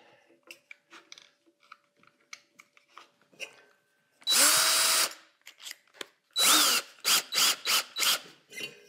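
A power drill with a 6 mm bit bores holes into a pottery wheel for bat pins, whirring in a long burst and then several short bursts, close and loud, with quiet handling sounds between.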